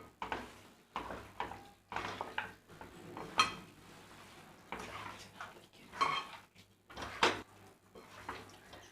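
Chicken fry ingredients tossed together in a bowl, with repeated soft clinks and scrapes of a spoon against the dish in irregular bursts, close and fairly quiet, no talking.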